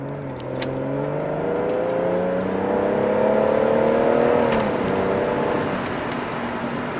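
A tuned BMW M140i with its B58 engine and a Bluespark tuning box accelerates hard on the road, its engine note rising steadily through a gear with a brief dip at a shift, heard from inside, loud and continuous.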